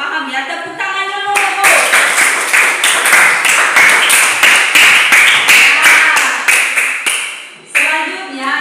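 A primary school class claps in a rhythmic, patterned beat, many hands striking together in quick sharp bursts for several seconds, with children's voices audible before and after.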